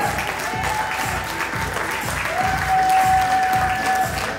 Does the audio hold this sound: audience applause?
yes